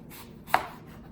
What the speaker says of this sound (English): I'm going to do little slices because I like little slices of apples.